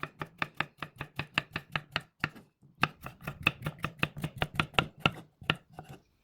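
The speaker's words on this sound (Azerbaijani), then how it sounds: "Sonra xiyarı doğrayıb suyunu çəkməsi üçün salfetkanın üzərinə tökürəm." A knife chops cucumber for a cake salad on a board, a fast rhythmic run of crisp close taps, a short pause, then another steady burst of chopping.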